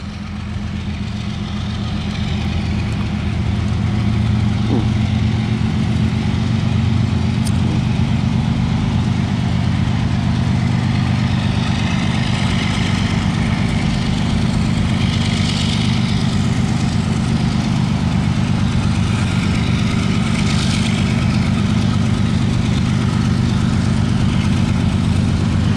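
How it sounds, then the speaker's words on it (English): Norfolk Southern 816, an EMD diesel locomotive with an EMD SD80MAC trailing, rumbles steadily as it creeps eastbound at Canal Drive, its loud low engine drone continuous and unbroken throughout. "here we have Norfolk Southern 816 slowly making its way eastbound"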